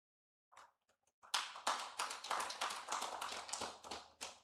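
A symposium audience claps after a few scattered early claps, then breaks into a steady, dense round of applause that stays close and fairly loud until the end.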